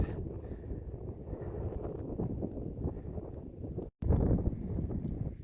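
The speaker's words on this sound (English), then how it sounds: "It's super windy" Strong wind buffeting the microphone in a constant low roar on a mountain pass in Glacier National Park, with a brief dropout before the gusting resumes even louder.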